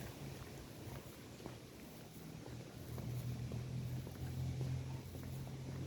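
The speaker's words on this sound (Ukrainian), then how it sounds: "і вітер дує." Gusty summer wind rumbles and buffets the microphone outdoors in rain, a low roar that grows stronger in the second half with no talking.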